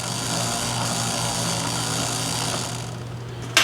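A wheel and tire spun up on a wheel balancer in a repair shop, giving a loud steady mechanical whir with a low motor hum that runs evenly throughout, ending in a brief clunk.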